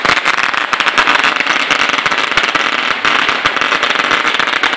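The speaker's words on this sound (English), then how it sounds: "light the biggest damn firework we've ever lit" A large New Year's Eve firework cake with 800 rockets goes off in a relentless, loud barrage of rapid crackling bangs and pops, densely packed with no pauses, close by outdoors.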